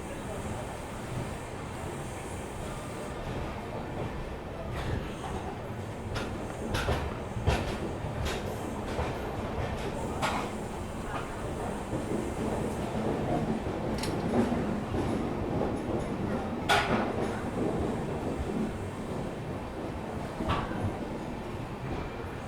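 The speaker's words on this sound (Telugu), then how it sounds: "సో మనమైతే డిపార్ట్ అయిపోయామండి గుంటూరు నుంచి." Secunderabad Repalle Express passenger train running after leaving Guntur, a steady rolling rumble with rhythmic clickety-clack of the wheels over the rail joints, heard from inside the coach with faint voices in the background.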